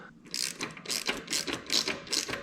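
A socket ratchet snugs up bolts while fitting frame and fork sliders on a Ducati Hypermotard 1100, producing close, rapid clicking bursts in a steady back-and-forth rhythm, with no talking.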